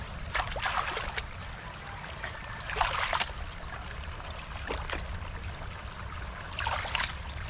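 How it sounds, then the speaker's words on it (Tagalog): A water sprayer watering crops in a farm field, a soft steady hiss of spraying water with intermittent louder splashing bursts, fairly quiet and without talk. "yung pong ating pandilig water sprayer"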